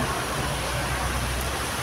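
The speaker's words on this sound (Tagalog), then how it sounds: "stranded tayo ngayon dito sa malakas na ulan" Heavy rain pours down steadily and loudly in a dense, unbroken hiss, with a deep rumble underneath, where people are stranded without an umbrella during a typhoon.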